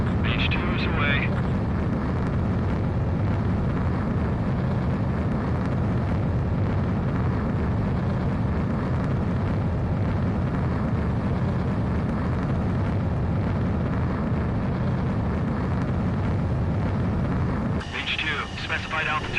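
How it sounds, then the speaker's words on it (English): A fighter jet roars through its takeoff in the combat flight video game Ace Combat 7, a loud sustained engine rumble and blast that runs nearly the whole time, with radio voices talking over it. "begin takeoff sequence. You're cleared for launch."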